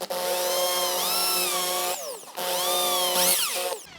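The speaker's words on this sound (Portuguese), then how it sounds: "Fazer os furos agora e parafusar esse lado." Power drill boring holes into a wooden stool made from scrap wood: two whining bursts of the motor, pitch sagging under load and rising again, with a short pause between them and no talk.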